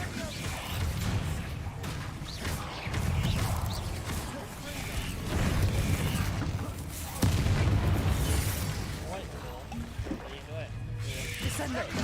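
Booming spell blasts from Bombarda in Hogwarts Legacy erupt repeatedly, heavy low thuds and crackling bursts layered with game effects and music, with speech running over the action.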